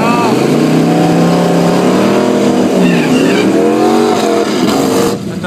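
Drag racing cars with French crews blast off at Rivanazzano Dragway, loud rising engine howls sweeping upward as they accelerate, close and overlapping, with a commentator talking over them.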